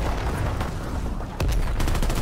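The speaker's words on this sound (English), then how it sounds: "There's so many explosions," A World War II shooter erupts with dense gunfire and booming explosions, a loud constant barrage broken by one sharp blast near the middle, followed by rapid bursts of shots.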